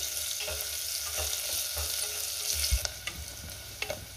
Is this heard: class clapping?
no